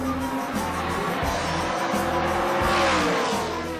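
GT1 sports cars such as Corvettes and Aston Martins race in the FIA GT1 World Championship, engines roaring loudly and close as they pass one after another, with rising revs and shifting pitch.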